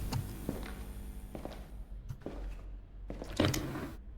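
Running footsteps in a dark horror video game, a series of quick thuds at an uneven pace, moderately close, over a quiet low background hum.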